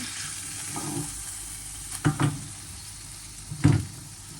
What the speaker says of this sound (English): We're just going to press it down just to make sure all the steak is brown